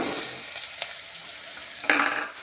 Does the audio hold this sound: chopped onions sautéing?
yes